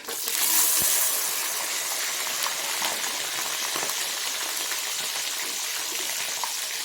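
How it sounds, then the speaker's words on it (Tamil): Mustard seeds crackle and pop in hot oil for sundakkai vatha kuzhambu, a steady close sizzle dotted with sharp little spits, loudest at the start and continuing evenly with no talk. "இப்போ நல்லா கடுகு பொரிய ஆரம்பிச்சிச்சு"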